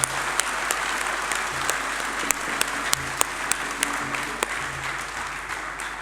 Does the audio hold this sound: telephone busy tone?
no